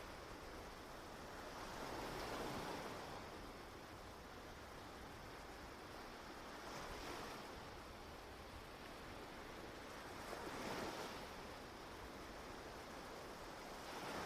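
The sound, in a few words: waves crashing on Reynisfjara black sand beach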